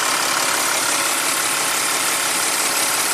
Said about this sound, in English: I'm taking this Audi diesel for a spin.